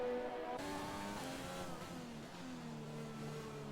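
McLaren race car in a racing video game leaving the pits during a Vietnam Grand Prix qualifying session, a steady, loud engine drone whose pitch climbs and shifts through gear changes with no talk over it.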